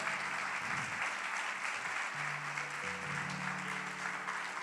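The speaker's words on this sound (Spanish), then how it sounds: "Dele un fuerte aplauso al Señor si usted quiere." A church congregation claps in sustained, even applause, a dense wash of hand claps heard from a distance with a low hum underneath.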